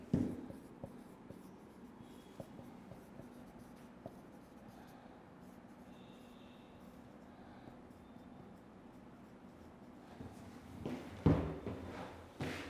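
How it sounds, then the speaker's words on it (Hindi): Pen writing by hand during a chemistry lecture on aldehydes and ketones, a faint, continuous scratching that runs steadily for several seconds before a louder bump near the end. "चलो इसमें और लिखते हैं"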